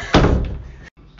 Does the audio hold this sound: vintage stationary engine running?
no